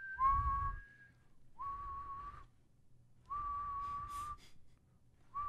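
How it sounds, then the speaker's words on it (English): A Ruroc Atlas 2.0 motorcycle helmet whistling in the wind while riding, several distinct high tonal whistles, each lasting about a second, separated by short gaps with faint wind rumble beneath. "when I would look right and left, it whistles"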